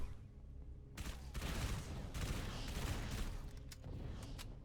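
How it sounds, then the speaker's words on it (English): Rapid SMG gunfire in Halo 3 ODST Firefight against Flood infection forms, sustained dense bursts starting about a second in and running nearly continuously, loud and close with brief dips between volleys. "I'm gonna use this SMG to start clearing out these infection forms"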